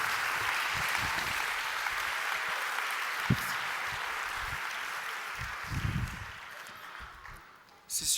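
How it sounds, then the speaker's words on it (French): Audience applause at a French church gathering, steady and dense crowd clapping throughout, with a few louder close claps and a brief dip near the end. "applaudissez vraiment le Christ"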